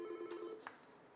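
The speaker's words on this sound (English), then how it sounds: "So, of course the phone is ringing, that's fine." An auto repair shop telephone rings faintly in a quiet room, a short electronic trill that soon fades.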